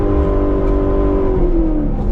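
A car engine revs hard and steady for a burnout on wet tires, a loud close droning roar with its pitch holding then sliding slightly lower near the end.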